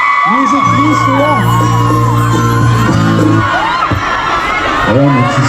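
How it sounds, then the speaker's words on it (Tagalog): A crowd at a Hong Kong fan event with actor Enzo Pineda shouts, whoops and cheers loudly, with overlapping high-pitched yells and screams sustained throughout, close and dense. "Kung sino po ang pinakamalakas ang sigaw, yun na pupunta ako."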